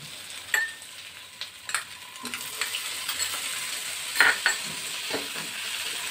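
Ginger and garlic stir-fried in a pan for a Bengali brinjal curry, a soft steady sizzle broken by scattered scrapes and clinks of the spatula stirring, close and moderately loud, with no voices.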